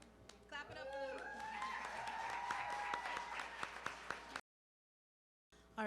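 Audience applause at an EXTRAordinary Women reception, a steady wash of clapping with voices and cheers over it, which stops abruptly and then briefly resumes.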